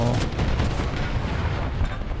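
Gunfire striking a tank in the War Thunder video game, a dense continuous rumble of impacts and booms, loud and close, with no speech.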